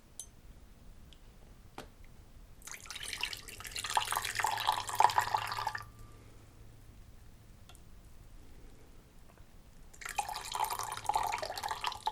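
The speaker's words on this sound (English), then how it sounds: "So we'll put the broth in." Ramen broth is poured into a bowl in two splashing, trickling pours, the first longer and the second brief, heard close up with a quiet pause between them.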